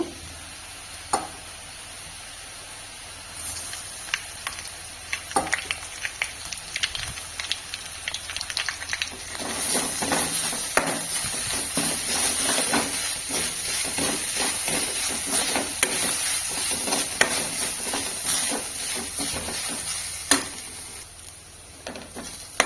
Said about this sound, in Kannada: ತೆಂಗಿನಕಾಯಿ ತುರಿಯನ್ನು ಸ್ವಲ್ಪ ಹೊತ್ತು ಈ ಥರ ಫ್ರೈ ಮಾಡ್ಕೊಳ್ಳಿ